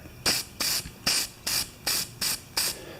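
Seven short hissing bursts from a spray can of primer onto a John Deere snow blower, evenly spaced with brief pauses between, close and fairly loud.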